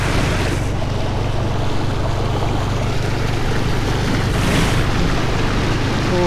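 A vehicle pushing through deep flood water on a flooded street, a loud, constant rushing and churning wash with low engine rumble and wind buffeting, steady and close throughout.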